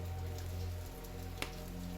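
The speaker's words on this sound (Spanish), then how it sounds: "Afuera seguía lloviendo, por agua no se preocuparían." Steady rain falling outdoors, a continuous soft wash of drops under a low steady hum, with one brief sharper tap partway through and no voices.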